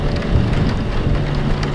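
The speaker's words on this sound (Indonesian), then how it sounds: "Ini sudah hujan," Continuous rain in a Roblox video game, a steady close wash of falling water with a low rumbling undertone and no talking.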